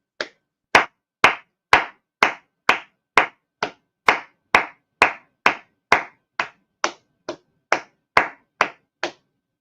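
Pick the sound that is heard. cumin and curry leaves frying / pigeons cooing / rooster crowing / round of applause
round of applause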